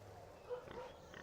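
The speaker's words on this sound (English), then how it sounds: "One of these pigs is outside of the gate." A pig oinks briefly in RuneScape 3, a couple of short grunts at moderate volume over a steady game background hum, with no talking.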